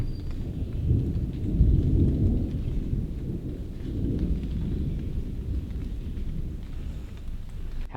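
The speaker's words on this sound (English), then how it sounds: "Heading off the mountains here, it's storming big time." A thunderstorm heading off the mountains over a gravel-road truck camp brings long, deep rolling thunder over a steady wash of rain, the rumble swelling and easing across several seconds with no voices.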